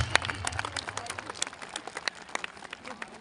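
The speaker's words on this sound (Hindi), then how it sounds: "जोरदार तालियां सभी।" A crowd at a Republic Day cultural programme on an outdoor ground gives scattered, uneven clapping: sharp separate hand claps that thin out rather than building into full applause.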